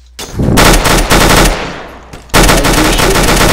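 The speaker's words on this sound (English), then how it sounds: "Why are you shooting me?" Loud, close automatic gunfire aimed at a player in a video game, two sustained rapid bursts separated by a brief lull.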